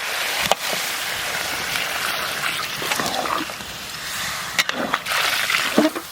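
Water poured into a pot of curry during outdoor village cooking for a crowd, a steady trickling splash lasting several seconds with brief louder sloshes, close by.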